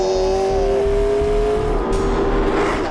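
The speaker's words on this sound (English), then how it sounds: "The electric motor and the big V8 generator are working together so that I have at my disposal 903 brake horsepower." McLaren P1 hybrid with its V8 and electric motor working together, a loud steady engine drone with a high electric whine running through it, heard close and continuous from inside the car.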